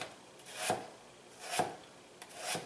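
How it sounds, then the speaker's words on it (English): A knife rocks through potatoes on a cutting board, giving three separate, soft scraping chops spaced about a second apart, quiet and close with no talking. "So I'm just rocking my knife."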